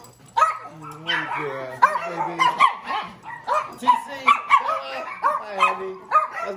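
Several pet dogs greet someone arriving home with excited yips, barks and whimpers in quick, uneven bursts, close by, while a person talks to them over the noise.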